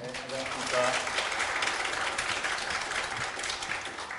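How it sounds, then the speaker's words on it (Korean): Audience applause welcoming a guest lawyer at a lecture for trainee lawyers, a steady broadband clapping that holds at even loudness for several seconds, with faint speech mixed underneath. "큰 박수로 환영해"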